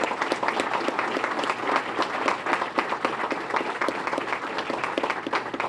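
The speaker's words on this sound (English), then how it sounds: "I ask you to please give him a round of applause for what he does." An audience at a longevity awards pin presentation gives sustained, evenly dense applause, many hands clapping together at moderate distance without a break.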